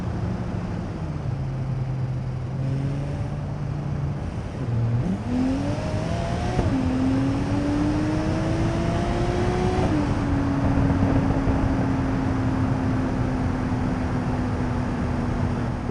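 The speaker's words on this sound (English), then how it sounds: "Here, you'll hear the exterior view. The wind sound is definitely louder." A car drives in BeamNG.drive with heavy wind roar washing over everything, the engine tone steadily climbing and shifting through gears beneath a constant loud rush of air.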